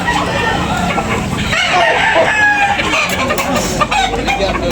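Roosters crow repeatedly amid clucking fowl at a busy chicken market in Tabunok, several loud overlapping calls close by with crowd murmur and faint voices in the background.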